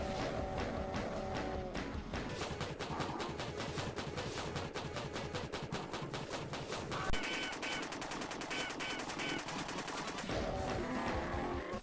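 Sustained rapid gunfire in the video game Doom pours into a Baron of Hell, a loud, dense stream of shots that runs without pause through the whole stretch.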